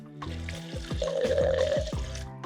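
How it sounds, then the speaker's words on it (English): Water pours into a mixing container for an alginate hand-casting mix, a steady splashing trickle that swells in the middle and tapers off, heard close. "So I'm gonna put all of the water in. It's about that much. I'm gonna pour that in here."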